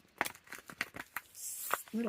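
Small plastic bags crinkle and rustle as they are handled, with sharp irregular crackles close by, followed by a short hiss and a brief voiced sound at the end.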